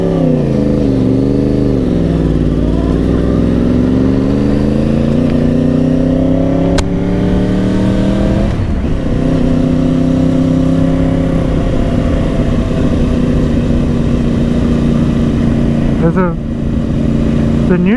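A 2010 Yamaha R1 1000cc motorcycle under way, its engine droning steadily with slow pitch sweeps as the rider changes speed, alongside constant loud wind rush. Around the middle the note briefly drops and climbs again, as in a gear change.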